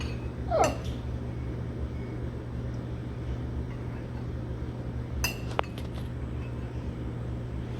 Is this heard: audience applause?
no